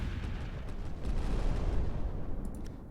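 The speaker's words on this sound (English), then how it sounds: "Let's do a thermal barrage this time." Deep, rolling rumble of a thermal barrage artillery strike in the strategy game Final Theory, a sustained low boom swelling in the middle and easing off over a few seconds, with a few faint higher clicks near the end and no talk.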